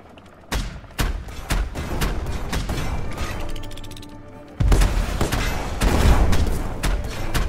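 Torpedoes firing and exploding in the airship game Black Skylands, a series of sharp blasts spaced roughly half a second apart, then heavier booming explosions with rumbling debris, loud and close.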